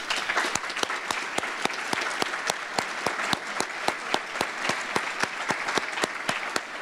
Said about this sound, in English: can you stand up so we can applaud you?